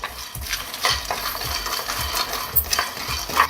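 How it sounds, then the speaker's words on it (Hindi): Peanuts dry roasting in a pan with red chillies and ginger over a slow flame, giving a steady dry rustle with repeated scraping stir strokes and light clinks of the spoon, close by and with no one talking. "तब तक मूंगफली को भुनेंगे"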